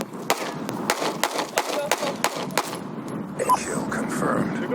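A Glock 19 and an XD9 pistol fired rapidly in the desert: a fast string of sharp, loud shots in quick succession, then the volley thins out into scattered ambient noise and faint voices.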